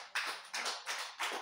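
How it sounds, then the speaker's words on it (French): Audience applause at a French-language church Bible class, four short bursts of clapping in quick succession, moderately loud and close, with no voices over it. "Applaudissez pour elle."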